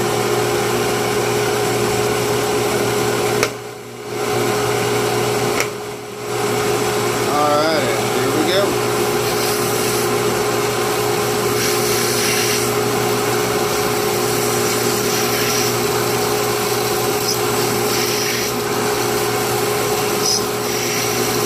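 Drillnado drilling rig running continuously to bore out a gearshift pen blank, a loud steady high-pitched motor whine with a constant tone, briefly dipping twice early on, with a voice now and then over it.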